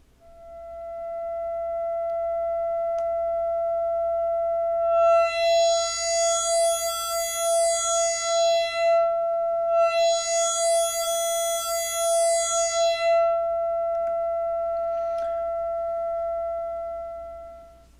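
A steady tone from a Buchla Music Easel synthesizer holds throughout, its timbre brightening twice into buzzy, harmonic-rich swells before settling back to a pure sine.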